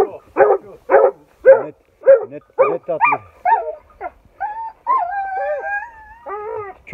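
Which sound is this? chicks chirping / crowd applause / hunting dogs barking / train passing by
hunting dogs barking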